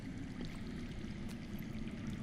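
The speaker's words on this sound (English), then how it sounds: "I hear water. From underground." Underground water flowing in a Game of Thrones video game, a faint, continuous trickling and gurgling stream with no speech.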